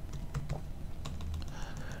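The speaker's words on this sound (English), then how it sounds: "So I'm going to be typing it here." Keys clatter on a computer keyboard while entering text into a spreadsheet, with close, irregular keystrokes over a low background hum and no talking.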